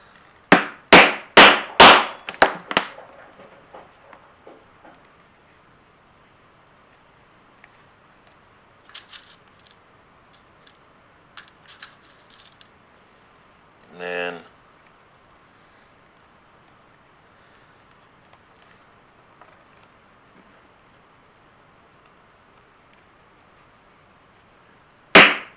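A hammer sets rivets into a leather axe sheath, with a quick run of five or six sharp, loud strikes that fade into lighter taps, then mostly quiet with a few faint knocks and one last sharp hit.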